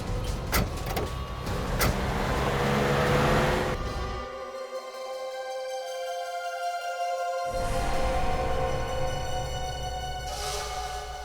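A car pulls away with its engine rising after a door closes on a man forced inside during a tense crime-drama abduction scene, with a brief hush before the motor noise resumes, close and steady.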